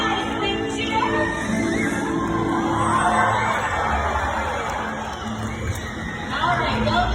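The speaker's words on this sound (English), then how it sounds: "All right, big cheers." A Sea World crowd cheers, whoops and shouts during the Shamu killer whale show, a loud, dense roar of many voices that swells midway and carries on throughout.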